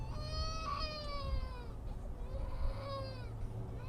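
Baby crying faintly in the background, wavering high wails rising and falling in two drawn-out bursts over low room hum.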